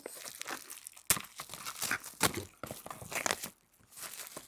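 Crinkly plastic packaging around a set of three plant-based wax candles being torn open by hand, a close, busy run of crackling, ripping and crunching with a few sharp tears and a brief lull near the end.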